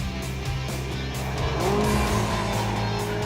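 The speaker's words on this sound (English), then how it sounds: "Listen to that engine." A powerful supercar engine roars continuously and builds in pitch as it accelerates at full revs toward 250 km/h, loud and close, with a steady high-revving drone.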